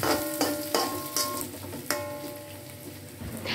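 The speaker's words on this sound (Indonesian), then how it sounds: "Kemudian bisa goreng irisan bawang hingga dia wangi." Sliced shallots fry in about two tablespoons of cooking oil, a steady close sizzle broken by occasional sharp clinks of a utensil stirring in the pan.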